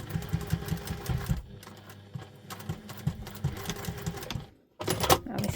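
A sewing machine stitches down a folded section of a handmade wallet, with a steady whirring, clattering run that pauses briefly and then picks up again, close and fairly quiet.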